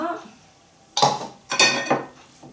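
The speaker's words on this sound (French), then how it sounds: "vous mélangez bien pour qu'il y ait vraiment des légumes et de la sauce partout" Raw vegan pad thai vegetables tossed and stirred with a creamy kale sauce in a bowl, giving three close, clattering bursts of utensils scraping and knocking against the dish.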